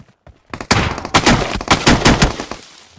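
Rapid bursts of automatic gunfire from the battle royale game BGMI, including an M4 rifle, loud and close with several sharp volleys in quick succession after a brief quiet start.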